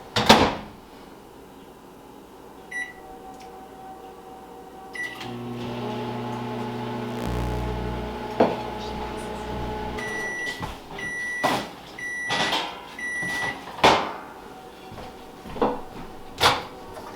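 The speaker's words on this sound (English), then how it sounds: "let's pop it in the microwave for another 5 seconds" A microwave heating a corn tortilla hums steadily for a few seconds, ends with beeps, and its door clicks and thuds open amid small clattering handling noises.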